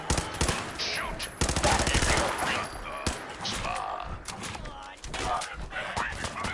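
Rapid bursts of gunfire from the Fallout 4 video game crackle in dense volleys, loud and close, mixed with game dialogue and other effects throughout.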